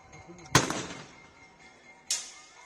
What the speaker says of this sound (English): these gunshots are an unfortunate reminder of what is happening in the state of Manipur